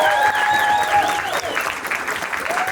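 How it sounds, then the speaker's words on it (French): Applause for the two presenters of an evening event, a steady dense wash of clapping from a sizable audience, loud and close, with a tonal sound running beneath it. "un tonnerre d'applaudissements s'il vous plaît pour les deux présentateurs de cette soirée"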